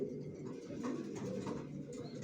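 Young racing pigeons coo in low, continuous overlapping tones close by, with no talking.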